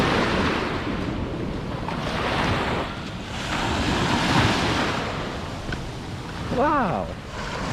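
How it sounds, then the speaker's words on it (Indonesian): Heavy surf rolls and breaks on the beach at Sengigi, Lombok, during high waves, with fishing boats pulled up on the sand. The roar swells and recedes in long surges, mixed with gusty wind buffeting the microphone, and a brief voice sounds near the end. "Tapi katanya lagi ombak besar"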